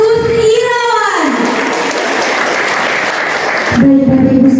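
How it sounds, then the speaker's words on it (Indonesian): Audience applause at an Olylife business plan presentation in Pringsewu, Lampung, a loud, dense wash of clapping that fills most of the clip, with a voice over the start and speech returning at the end. "Beri tepuk tangan yang luar biasa untuk Bapak Agus Irawan"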